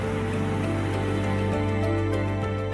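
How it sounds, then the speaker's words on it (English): Heavy rain falls at night in Italy, a steady dense hiss with a low constant hum beneath it and no voices. "Italy is raining heavily tonight."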